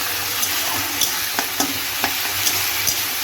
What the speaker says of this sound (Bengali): এবার আমি দিয়ে দেব আদা রসুন বাটা। ভালো করে একটু মিশিয়ে